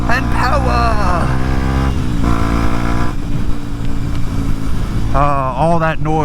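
Kawasaki KLX motorcycle engine accelerating at full throttle, loud and close, with rising pitch sweeps as it climbs through the gears, and a voice talking over the engine noise.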